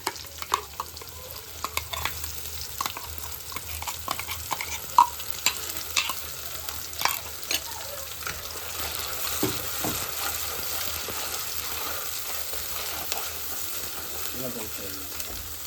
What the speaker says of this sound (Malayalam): കൊച്ചുള്ളി മുളകും കൂടി ഇട്ട് നമുക്ക് നമ്മുടെ അരപ്പിട്ട് കൊടുക്കാം.